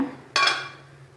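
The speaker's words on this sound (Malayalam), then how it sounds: "ഒന്ന് ഇളക്കിയിടാം." A single metallic clank rings out as a spoon strikes the pan while egg and bitter gourd thoran is stirred, with the brief tone decaying over a low background hum.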